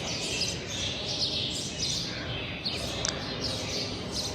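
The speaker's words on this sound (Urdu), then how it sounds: "آوازیں آ رہی نا چڑیوں کی، کتنی پیاری" Sparrows chirp and tweet steadily from a flowering drumstick tree, a dense chorus of overlapping bright calls over a constant outdoor background hum.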